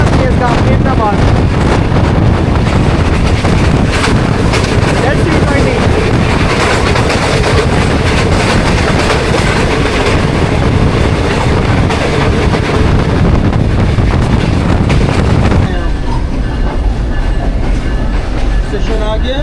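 Green Line Express train running at speed, a steady loud rumble and rattle of rolling stock with wind buffeting throughout, easing to a quieter tone near the end.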